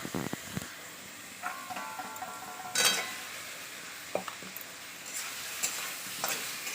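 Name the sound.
potatoes frying in sautéed biryani spice paste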